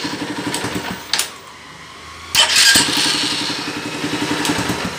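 Honda CG 150 motorcycle with a replacement Magnetron starter motor, cranking in short whirring bursts with gaps between, then a longer cranking run, close and fairly loud.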